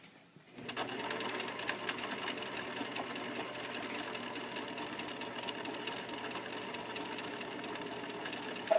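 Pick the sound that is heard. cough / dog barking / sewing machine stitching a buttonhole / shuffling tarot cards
sewing machine stitching a buttonhole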